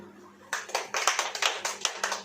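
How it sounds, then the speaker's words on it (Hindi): A church congregation clapping hands during a sermon: quiet hum at first, then a burst of distinct, fairly rhythmic claps that start abruptly and continue with sharp individual strikes to the end. "ताली बजाओ"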